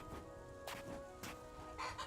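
Bird-like creatures called skrills in the video game Hytale, giving a few short clucking, squawking calls at irregular intervals, faint and set back in the scene, with no talking.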